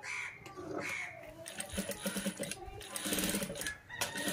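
A sewing machine stitches the neckline of a child's frock made from an old saree, running in quick rattling bursts with short pauses, fairly quiet and close.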